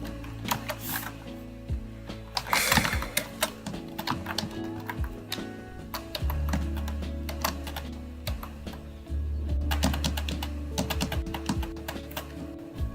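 Keys clatter on a computer keyboard in irregular bursts of close, crisp clicks, with brief pauses and a low background hum underneath.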